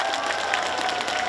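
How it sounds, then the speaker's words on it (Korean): Audience clapping at an outdoor trot music festival performance at a red ginseng festival, a brief burst of dense applause with some crowd murmur. "큰 박수 부탁드리겠습니다."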